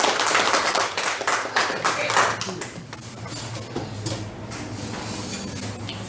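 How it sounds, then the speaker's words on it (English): Applause from a live audience at a show, dense clapping that starts loud and thins out, with people talking over it. "so huge round of applause for the work"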